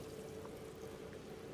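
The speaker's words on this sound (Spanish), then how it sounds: "Posteriormente vamos a agregar las 2 tazas de agua o el medio litro de agua" Two cups of water poured into a pot with cleaned strawberries for atole, a faint steady splashing stream lasting the whole moment, with no voices.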